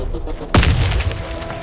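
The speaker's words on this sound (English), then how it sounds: "Grenade!" Grenade blast in the shooter game Warface, a sudden loud booming explosion with a deep low thud, followed by a rumbling, debris-filled decay.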